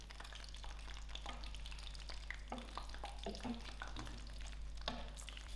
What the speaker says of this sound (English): And now I'm going to fry out my next batch of bhindi.